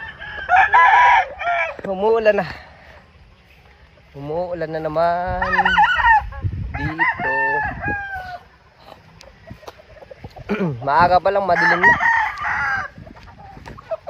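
Chickens on a Filipino game farm in the rain, with roosters giving several loud, close crows and hens clucking between them, while someone talks over part of it.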